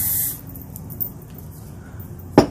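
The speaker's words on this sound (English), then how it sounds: "I always like to give my hair a little fluff with a little bit of spray" A hair spray can gives a brief fluffing spritz, with a short hiss at the start and a sharp burst near the end, close and moderately loud over quiet room noise.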